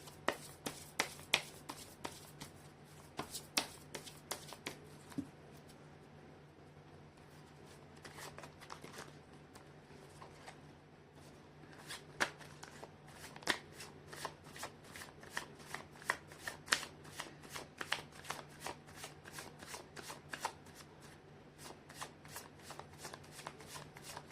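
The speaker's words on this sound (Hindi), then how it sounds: "मैं कर लेती हूँ कार्ड की शफलिंग।" Tarot cards shuffled repeatedly at close range, a steady run of crisp riffling snaps and flutters lasting throughout with no talking, over a faint constant low hum.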